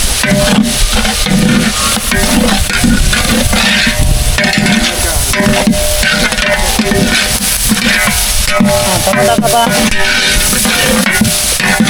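Chillies frying hard in a large pot for mutton sukka, cooked at a temple: a loud, dense, continuous sizzle and crackle fills the whole stretch, with stirring scrapes mixed in and no talking.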